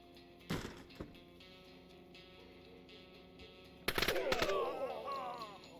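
A squad firing in the video game Door Kickers 2: a couple of sharp isolated shots over a quiet background, then a tight burst of rapid gunfire followed by a voice.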